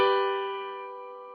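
A single sustained piano major chord, struck once and ringing out cleanly alone, slowly decaying over about a second and a half.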